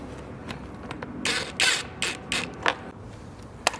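Socket wrench ratcheting on bolts mounting a motorcycle front fender to its bracket, several short close bursts of clicking with brief pauses between them.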